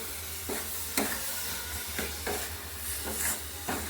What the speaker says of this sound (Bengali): নারকেলটা দিয়ে দিল খেজুরের গুড়ের মধ্যে, এবার নেড়ে নিচ্ছে ভালো করে।